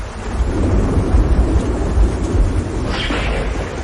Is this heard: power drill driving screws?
no